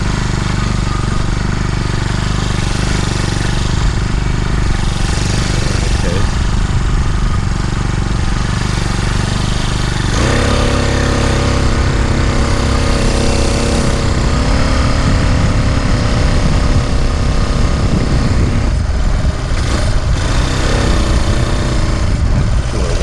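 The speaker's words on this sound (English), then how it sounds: "you got to let the engine warm up and get a little compression" Small engine on a motorized fat-bike beach cruiser warming up on a beach, a loud continuous buzzing drone that shifts pitch partway through, with wind noise and no talk.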